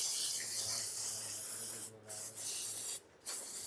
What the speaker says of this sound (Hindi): अब इसके अंदर थोड़ा थोड़ा हम स्प्रे करते हैं ताकि जो भी जंग है